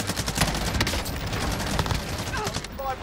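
Video-game gunfire in a fight at a dam, dense continuous bursts of automatic shots throughout, with players' voices and radio-style chatter mixed in.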